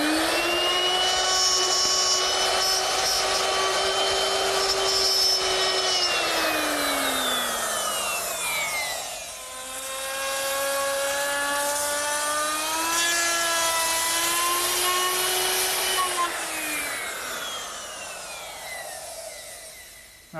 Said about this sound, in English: now I've put a 1/2 inch dovetailing bit in my router, and I'm going to make a little short pass at the bottom of this rabbet